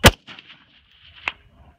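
A long-range rifle fires one loud, sharp shot at a target, followed by a faint ringing tail and a second, softer crack about a second later, likely the distant impact.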